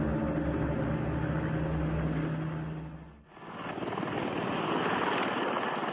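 A Ka-50 Black Shark helicopter flies past near a bridge outside Moscow, its loud rotor and engine roar dipping briefly mid-pass before returning strongly.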